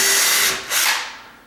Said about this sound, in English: what I'm going to end up doing, okay, is drilling some holes in here